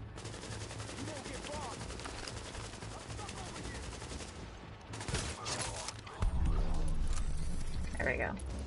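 Rapid gunfire rattles continuously in The Division video game, with bursts of shots and action sounds layered under voices that grow louder toward the end.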